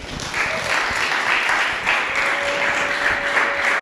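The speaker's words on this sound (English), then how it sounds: "Please put your hands together for John Morgan." A story slam audience applauds steadily, a dense, loud wash of clapping that runs unbroken for nearly four seconds before cutting off abruptly.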